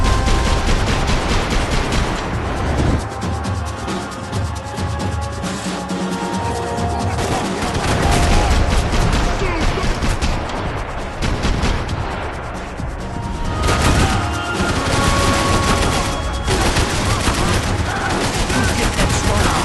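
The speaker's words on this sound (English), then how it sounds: "I can't concentrate with bullets whizzing past my head!" Dense, sustained gunfire with bursts of automatic weapons and booming impacts in a Max Payne 3 firefight in a swamp, loud and continuous, with bullets whizzing close past throughout.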